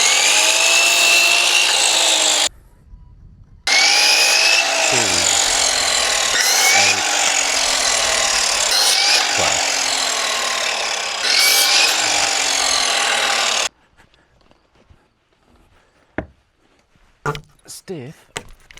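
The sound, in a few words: saw cutting wood decking boards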